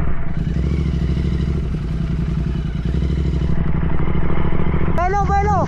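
A Royal Enfield GT650 motorcycle rumbles loudly and continuously on a rough river and mountain trail, with clattering from the bumpy ground and a rising whine near the end.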